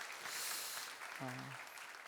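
A church congregation at a Thanksgiving Sunday service gives brief, faint applause for the drama team, soft clapping with a short voice briefly audible partway through.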